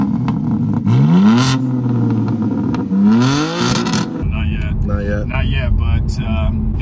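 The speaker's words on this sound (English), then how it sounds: "Has anyone ever complained about your cold starts though?" A car engine is cold-started, then revved hard twice, each rev climbing in pitch and falling back. The engine is loud and close, and voices talk over the settling idle afterward.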